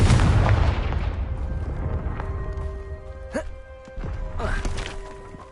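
A Confringo fire spell blast in Hogwarts Legacy opens with a loud, forceful boom that decays into a rumble. Lighter clicks and swooping tonal chimes follow while the blast fades.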